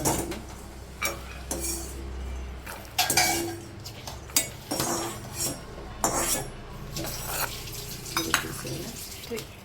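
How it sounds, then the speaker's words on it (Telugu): Coconut roasts in a pan for a fish curry, with a soft sizzle under repeated stirring scrapes and clinks of a metal spoon against the pan, close and fairly quiet, and a low hum running beneath. "ఇట్లా కొబ్బరిని ఇట్లా కాలుస్తే బాగుంటుంది"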